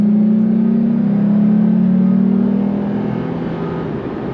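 A car engine hums under steady acceleration while merging onto a highway, its pitch rising slowly then easing off, heard close from inside the vehicle.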